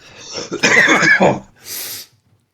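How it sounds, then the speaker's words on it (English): A single harsh cough up close, followed by a short breathy exhale or throat-clearing rasp, then quiet. "You've caught my cough, mate."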